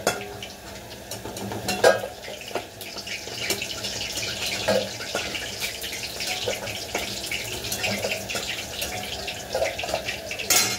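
Pakora frying in a pan with a little water added, being stirred: a steady close sizzle with scraping stir strokes and occasional clatters of the utensil throughout, no talk.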